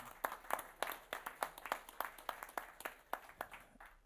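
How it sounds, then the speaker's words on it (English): Audience applause at a panel event on Swiss digital bonds and CBDC, a steady patter of many hands clapping at moderate distance, fairly light, with no voices over it. "an applause for him."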